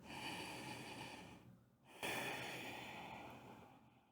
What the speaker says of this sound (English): And finding that Ujjayi breathing, that ocean sound breathing